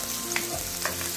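Ginger sautés in a pan for chicken tinola, giving a short, steady sizzle with a couple of soft stirring scrapes.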